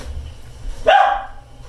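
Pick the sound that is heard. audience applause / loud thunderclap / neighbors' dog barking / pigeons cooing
neighbors' dog barking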